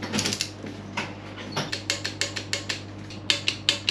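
A ratchet wrench torques down the oil pump bolts on an LS engine, giving a quick series of sharp, close ratcheting clicks in short bursts, with no talk.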